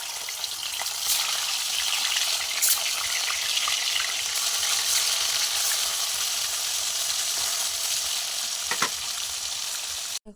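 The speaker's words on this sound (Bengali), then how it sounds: "এখন আমি মাছ ভাজি করবো।" Pieces of fish fry in hot oil for a fish, potato and eggplant curry, giving a steady, close, dense sizzle that runs unbroken for the whole stretch with a few sharper crackles and no voices.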